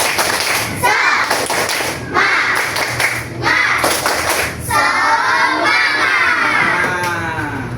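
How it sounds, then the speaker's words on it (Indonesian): A classroom group performs a rhythmic spirit clap, bursts of patterned clapping and thumps with children's voices shouting along, loud and close, repeating in several phrases. "Sebelumnya kita semangati diri dulu dengan tepuk semangat."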